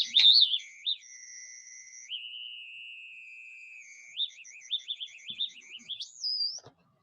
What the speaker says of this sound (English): The intensity of light will change the frequency, output frequency, and it's audible, so you can hear the frequency.